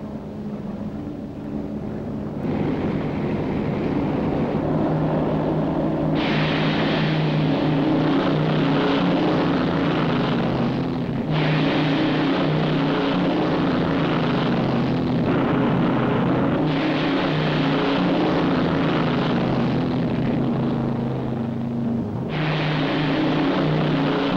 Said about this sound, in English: one after the other, the planes leave to carry out their missions